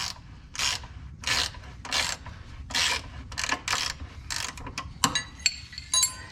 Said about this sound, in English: now we're going to remove the lower control arm